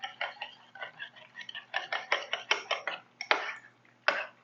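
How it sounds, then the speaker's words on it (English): A spoon stirs a dill pickle juice and dill weed dipping sauce in a bowl, giving a run of quick, close, light clinks and scrapes in an irregular rhythm. "And then I'm going to stir this up."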